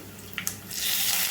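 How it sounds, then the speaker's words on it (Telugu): Curry leaves dropped into a hot oil tempering for mango dal, two quick crackles followed by a loud, sustained close sizzle that swells and holds. "తిరగమాత బాగా వేగాలండి"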